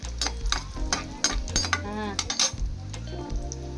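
Raisins frying for bread halwa, with a steady sizzle in a pan under frequent scraping stirs and metallic clinks of a spoon against the pan.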